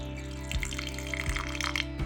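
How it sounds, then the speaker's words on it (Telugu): Water pouring into a container of soaked rice ready for grinding, a steady close splashing stream with a low mechanical hum beneath and small irregular gurgles throughout. "ఇందులోకి నీళ్ళు వేసుకోవాలి."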